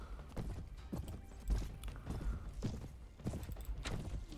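A horse gallops in Mount and Blade: Warband, its hooves pounding in a quick, uneven rhythm of repeated thuds. The hoofbeats are close but fairly quiet.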